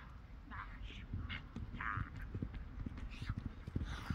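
Horse hooves clip-clopping at a steady walking pace on hard ground, close by, with faint voices and outdoor noise around them.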